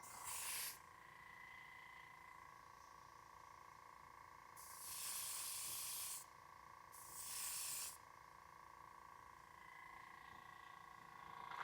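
Aerosol spray paint can hissing in three bursts, a short one followed by two longer ones, loud and close over a constant hum in a prop workshop.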